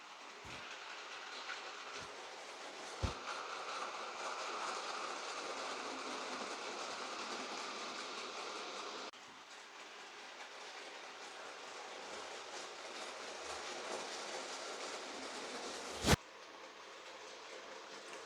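A Z scale model freight locomotive pulls ten G40 wagons around a layout, giving a faint, steady rolling clatter with a few light clicks and one sharp tick near the end, with no voices.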